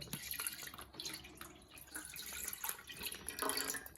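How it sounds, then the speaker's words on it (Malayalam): Half a litre of milk pours steadily into a pot with a continuous splashing, gurgling stream, close and fairly quiet, no voices. "ഞാൻ പാത്രം എടുത്ത് വെച്ചിട്ട് അതിലേക്ക് അര ലിറ്റർ പാൽ ഒഴിക്കുക"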